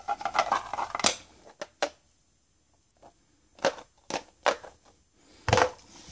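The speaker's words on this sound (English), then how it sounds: "Gonna put a couple rounds in here to show you how well it fits" Ammunition rounds placed one at a time into a Berrys plastic ammo box, giving several sharp, separate clicks and clatters at irregular intervals with quiet gaps between them.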